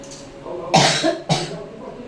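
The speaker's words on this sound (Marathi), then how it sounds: "खोकलाय लागला ना" A person with a cold gives two harsh, throaty coughs close to the mic, spaced about half a second apart over a faint background.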